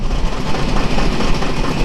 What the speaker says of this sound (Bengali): এখন ছেড়ে যাচ্ছি শ্রীনগর রেলওয়ে স্টেশন